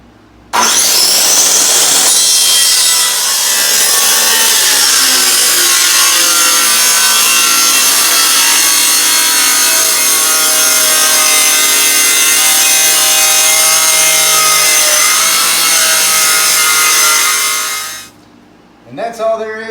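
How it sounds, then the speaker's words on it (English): A power saw rips through the bottom of a wooden interior door in one continuous, loud, close cut lasting about seventeen seconds, the blade whining steadily before spinning down at the end. "Now that we got power, let's cut the door."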